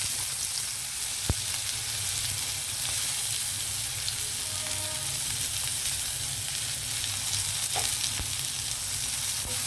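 Onions fry in oil left from frying raw bananas, a steady, close, dense sizzle that stays even throughout, broken only by a couple of faint clicks.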